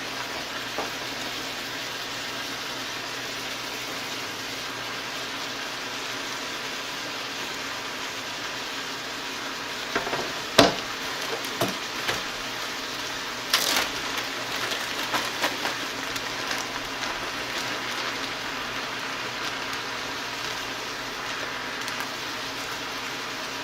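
Shrimp gumbo stir fry sizzles in a pan with a steady, hissing crackle throughout, and a few brief clanks and scrapes of the pan partway through.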